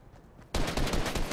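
Rapid automatic gunfire in Fortnite bursts in abruptly after a quiet moment, a loud, dense rattle of shots that continues steadily to the end.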